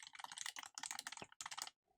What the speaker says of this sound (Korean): 타이핑도 할까요?